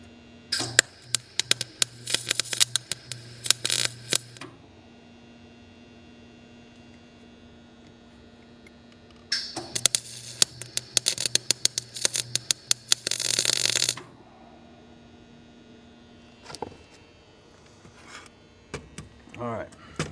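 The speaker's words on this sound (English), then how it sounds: "Let's weld her in." Welding on a metal robot statue, two long bursts of crackling, buzzing arc with a steady electrical hum between them, plus shorter clicks and taps of handling metal near the end.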